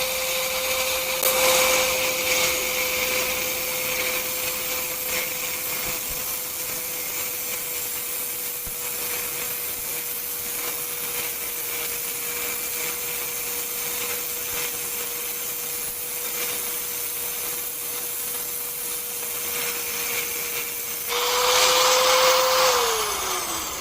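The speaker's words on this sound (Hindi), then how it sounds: "हमारे यहाँ पर ग्राइंडर ऑन होगा।" An angle grinder runs steadily for about twenty seconds with a sustained high whine and gritty friction noise, rising in pitch and intensity near the end as it cuts; no talk over it.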